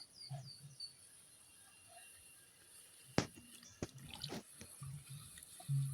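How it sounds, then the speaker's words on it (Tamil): Water from a kitchen tap splashes faintly while a mixer jar is rinsed, a soft steady trickle with a few clinks and knocks of the jar, heard quietly and close by with no talking. "இந்த மிக்சி ஜாரில் இருக்க எதுவும் நல்லா கழுவி போட்டுக்கோங்க"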